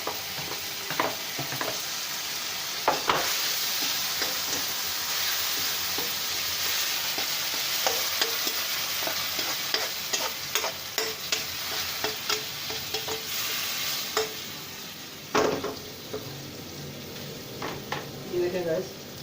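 Tomatoes are added to browned onions frying in a pan for an aloo anday salan, a bright continuous sizzle with frequent clicks and scrapes of stirring, close, with intermittent talk.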